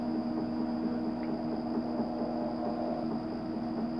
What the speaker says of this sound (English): You can see it's spinning it pretty good right now. It's still on the rinse cycle.